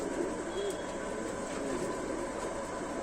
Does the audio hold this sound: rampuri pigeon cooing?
yes